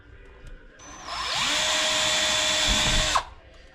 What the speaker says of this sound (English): So we'll drill this last hole here.